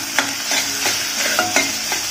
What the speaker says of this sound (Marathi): या भाज्या हाय फ्लेम वरती तेलामध्ये छान अशा आपल्याला परतून घ्यायच्या आहेत